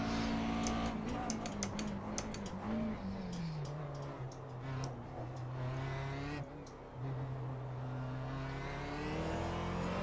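McLaren race car in iRacing, its engine revving and climbing through gears with continuous high-pitched whine, downshift blips and ticking, loud and close from the cockpit, with faint commentary voice underneath.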